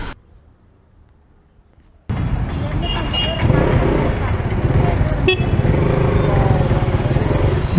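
After a quiet start, a KTM Duke 200 motorcycle engine suddenly fills the clip with a loud, steady rumble while riding, traffic noise and a brief horn toot over it.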